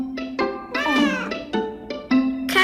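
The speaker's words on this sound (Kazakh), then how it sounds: "марғауды сыртқа шығаруымыз керек" A cat meows indoors, several drawn-out, wavering cries one after another, close and fairly loud, with no talk.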